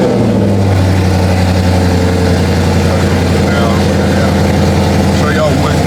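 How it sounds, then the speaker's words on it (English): A Widebody Scat Pack car engine runs loud and close throughout, with steady low harmonics that shift in pitch as it revs, a voice talking over part of it. "So let me get in the car, crank it up one time"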